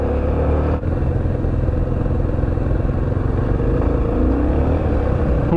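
Yamaha TT600 Belgarda motorcycle ridden off-road with the back wheel spinning, its engine droning loud and close in a steady rumbling roar that holds throughout, with wind buffeting and no speech.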